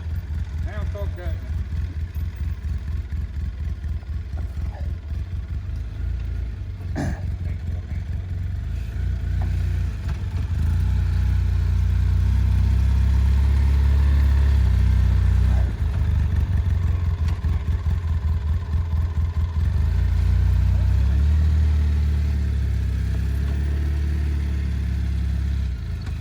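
A Polaris Ranger UTV fitted with a Duraclutch drives over rough rescue-trail terrain. A rumbling mid-range engine swells louder midway, with clatter from the machine, and people talk over it throughout.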